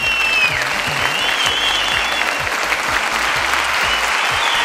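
A studio audience at a Turkish fashion competition show applauds steadily and densely, the clapping loud and unbroken throughout, with a few faint whistles riding above it.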